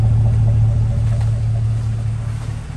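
A 2014 Chevrolet Silverado 1500 LTZ with a 5.3 V8 and an aftermarket Dynamax Super Turbo exhaust idles close by, giving a loud, steady low rumble with a strong hum that stays even throughout.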